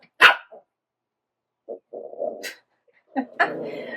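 Puppies yelp and bark indoors in short scattered bursts, a sharp yip first, then softer whimpering barks and a final cluster of yaps, fairly close and moderately loud.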